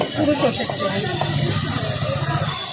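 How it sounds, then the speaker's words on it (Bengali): Chopped onion fries lightly in mustard oil at a roadside egg tadka stall, giving a steady loud hiss and sizzle under busy talk and background chatter. "একবারে কুচি করা পেঁয়াজ হালকা ফ্রাই করে নেওয়া হচ্ছে আর এটা পুরোটা সর্ষের তেলেই করো"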